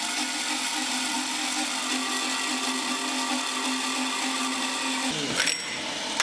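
A lathe runs steadily in a workshop during a DIY build of a tiny shoe-sized bicycle, giving a continuous whirring machine drone with a strong hum, then it winds down near the end with a short clatter.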